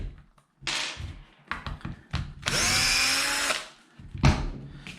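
A power driver whirs in one sustained burst as it backs out the case retaining bolts on a Kraken VESLA 5th-scale RC car, with scattered knocks and clatter of handling before and after.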